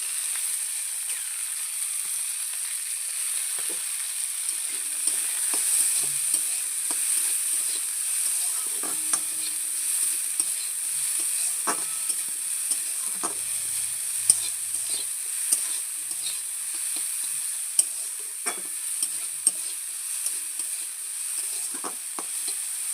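Sliced onion frying in oil in a pan on the stove, a steady soft sizzle throughout with occasional light stirring taps, no talking.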